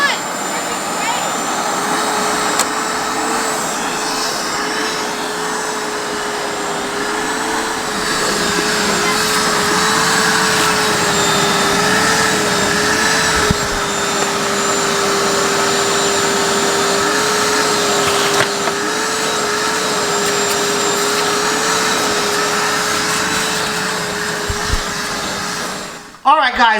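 A vacuum cleaner runs steadily and loudly on power from an Ampeak 2000 watt inverter, with a constant motor whine that holds for most of the stretch and then cuts off near the end.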